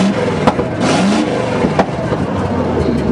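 An old loader engine, started for the first time since 2001, revs on the throttle, a loud continuous mid-pitched roar with a few sharp surges, close by and alone with no talk.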